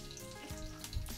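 Mustard seeds crackle and sizzle in hot oil for a brief, steady spell, made for a Malvani tomato saar. The popping is close and moderately loud, with no voices over it.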